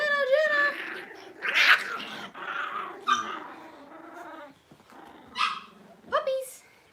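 Cavalier puppies barking, yelping and squealing in play, with high excited yips and whines in short bursts, while a person talks over them.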